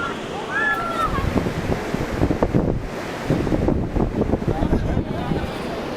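Heavy surf crashes in continuous rolling waves on a rainy beach in Morong, Bataan, with strong wind buffeting the microphone throughout.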